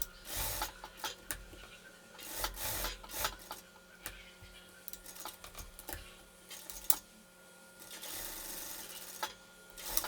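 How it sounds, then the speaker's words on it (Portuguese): A straight-stitch sewing machine sews a seam along a square neckline on a shirt, giving close bursts of rapid mechanical whirring separated by short pauses and softer rustling. "eu vou lá para a máquina reta e eu vou passar uma costura com a distância de 1 centímetro no centro-frente"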